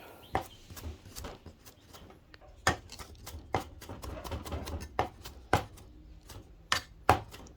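Food being chopped finely with a knife on a board while preparing fried pork with chili and salt: sharp, irregular thwacks, close and loud, with quieter scraping and taps between the stronger strokes.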